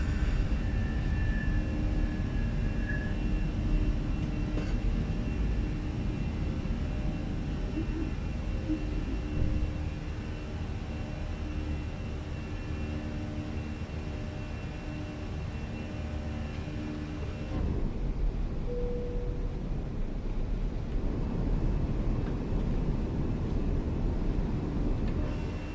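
An Airbus A320 cockpit during the climb after takeoff from Madeira carries a steady, enveloping engine and airflow roar that runs unbroken throughout, with a faint tone briefly rising above it.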